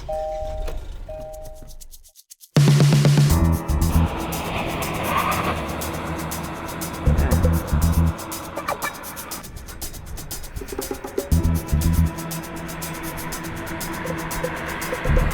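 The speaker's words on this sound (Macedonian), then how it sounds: "како се однесува оваа каросерија со еднолитарскиот TGDI мотор" A Kia XCeed with a three-cylinder 1.0 TGDI engine is driven, its steady engine and road drone heard from inside the car. A short chime comes before the drive, and light rattles sound along the way.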